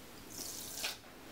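Cold tap water running briefly into a container while making a marinade, a soft splashing stream heard close and alone for about a second.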